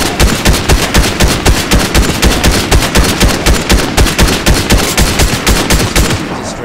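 Rapid automatic gunfire hammers away without pause in Fortnite, shooting apart a ceiling structure above a data receiver, with loud, close, evenly paced shots running the whole stretch.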